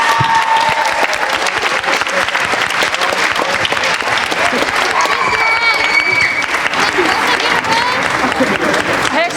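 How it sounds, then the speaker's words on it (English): An audience at a school pops concert applauds, dense and loud clapping filling the whole stretch with crowd murmur and a few whoops mixed in. "Let's give another round of applause for all of our students here at KHS."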